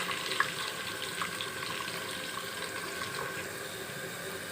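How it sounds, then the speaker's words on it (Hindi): Chopped onion frying in well-heated cooking oil for a masala brinjal dish, giving a steady, dense sizzle with fine crackling that holds evenly throughout, no talk over it. "अब हम इसमें प्याज को ऐड करेंगे और प्याज को हाफ ब्राउन होने देंगे"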